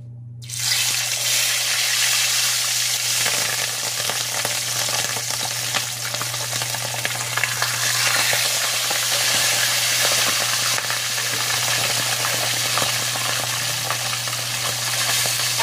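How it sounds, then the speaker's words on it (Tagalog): Fish frying in hot oil for escabeche, a steady loud sizzle and crackle that starts abruptly as the fish goes into the pan and continues without a break, with a constant low hum underneath. "Mainit na yung mantika guys, lagyan na natin yung ating fish."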